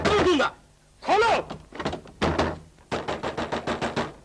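Banging and pounding on a locked door in a 1948 Hindi film, heavy thuds in bursts ending in a rapid string of knocks, loud and close, with a voice calling out between the blows.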